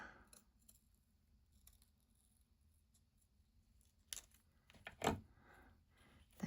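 Scissors cutting paper while a card is made, a few quiet snips over a near-silent background, then a cluster of sharper, louder cuts and rustles toward the end.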